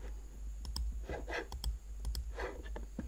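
Several sharp mouse clicks spaced irregularly over a few seconds, crisp and close, saving an image on a Windows 10 computer, with a steady low hum underneath and no talking.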